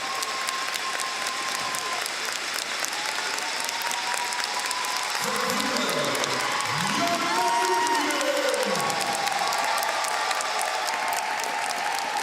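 Crowd applause with scattered cheers rises and holds for several seconds in a large arena after a women's figure skating short program at the 2023 European Championships in Espoo, loud and continuous throughout.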